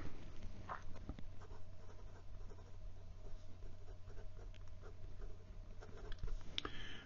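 A Platinum President fountain pen nib drawn upside down across paper, giving a soft, dry, steady scratching and faint ticking strokes, close and quiet against a low background hum.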